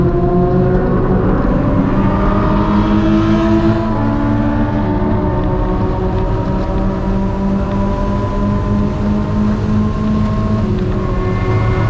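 A Thunder Roadster race car engine drones steadily at Mid Ohio track, a loud, close, sustained roar whose pitch bends up and down with gear and throttle changes, with wind buffeting underneath and no talking.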